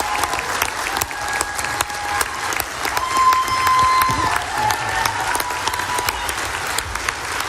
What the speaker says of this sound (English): Give him a giant round of applause.